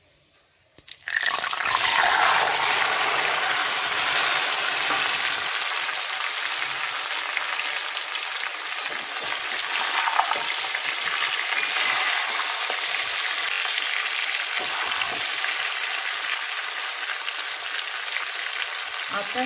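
Raw mango pieces hit hot oil seasoned with five-spice and dried red chili for a sweet pickle, setting off a loud, steady, close hiss and crackle of frying that runs continuously after a quiet start.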